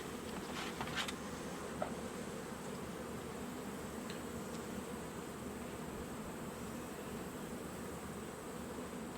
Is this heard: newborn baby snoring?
no